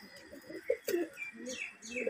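A male Murshidabadi Gibaz pigeon coos softly, a few low burbling calls repeated close by against a quiet background, with a brief flutter of higher chirps.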